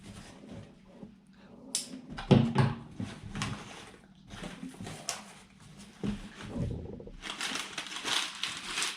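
Packaging for a Micro Maqueen robotic kit is opened at close range, with crinkling paper and sharp rustling and crushing handling noises coming in irregular bursts, loudest in the middle and again toward the end.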